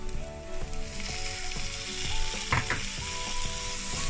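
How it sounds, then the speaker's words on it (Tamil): Masala sautéing in a hot pan for bread chilli, a continuous sizzle with a steady tonal hum underneath and a short burst of stirring scrapes midway, no speech. "மசாலாவை நல்லா மிக்ஸ் பண்ணி விடுங்க. பாருங்க மசாலா நல்லா வதங்கிடுச்சு."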